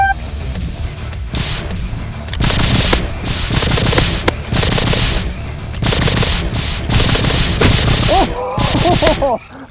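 Spyra 3 water blasters fire in a water battle, loud repeated bursts of spraying water hitting and splashing, close and continuous, with short gaps between volleys.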